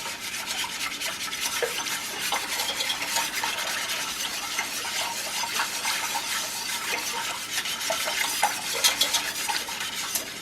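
Orange citrus jelly mixture with added pectin being stirred in a pot, a steady scraping and swishing of the spoon against the metal with faint bubbling throughout, close and continuous without talk.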